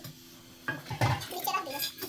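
A pot of water is set down with a metallic clatter beside a hot pressure cooker in a home kitchen while nihari cooks, a short clank and some rattling heard close up over quiet voices.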